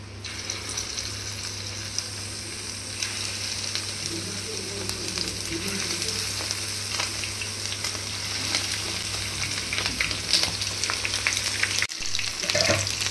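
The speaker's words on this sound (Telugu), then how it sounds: "ఇప్పుడు మనం ఒక్కొక్క పీస్ని ఆయిల్లో డీప్ ఫ్రై చేసుకుందాం." Chicken lollipop pieces deep frying in hot oil, a steady dense sizzle and crackle running throughout with a low background hum, briefly cut near the end.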